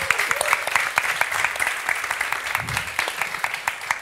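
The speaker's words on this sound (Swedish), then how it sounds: "Ge dem en stor applåd innan de lämnas igen" An audience at a seminar claps steadily, a dense patter of many hands, with a faint voice briefly underneath.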